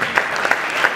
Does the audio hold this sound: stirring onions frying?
no